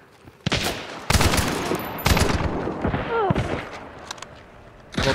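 Video game gunfire: loud bursts of rapid shots in clusters, some echoing, with a player's voice occasionally heard between the volleys.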